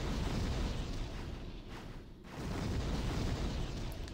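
A continuous loud, roaring rush of flame from the Fire Spray spell in Demon's Souls, dipping briefly in the middle before surging back at full strength.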